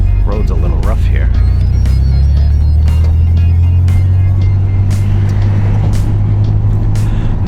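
A 1991 Mitsubishi 3000GT VR4 twin turbo pulling hard under about 7 psi of boost on a rough road, heard from inside as a loud, steady low engine drone while someone talks over it.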